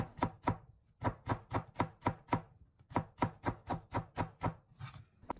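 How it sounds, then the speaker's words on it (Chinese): A knife chops stacked white radish slices into shreds on a cutting board, rapid even strokes in two quick bursts with a short pause between, crisp and close. "紧接着再将它改刀切成白萝卜丝。"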